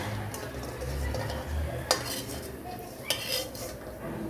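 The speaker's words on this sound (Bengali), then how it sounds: "মুড়িকে এরকম হালকা লাল লাল করে ভেজে নিতে হবে" Puffed rice dry-roasting in a pan until lightly reddened, stirred with a metal utensil: a quiet, steady scraping rustle punctuated by two sharp, close clinks of the spoon against the pan.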